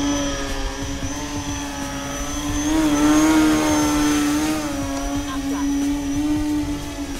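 Electric motor of a damaged E-flite Turbo Timber X RC plane in flight, a steady, nasal tonal whine that swells and eases a little as it passes, with a person talking over it.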